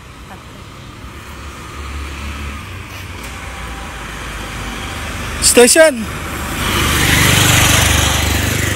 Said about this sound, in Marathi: एक रिक्षा येते.